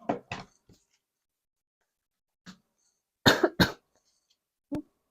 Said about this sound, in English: Sorry if I like just coughed directly into the mic.